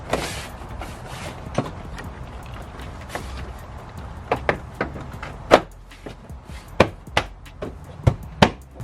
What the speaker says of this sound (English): just put the door back the same way you took it out.